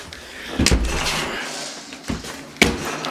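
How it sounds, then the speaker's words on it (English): A door that does not seal properly is shut, giving a few thuds and bangs against a rustling background, close by, with no talk. "Friggin' door isn't sealing right either."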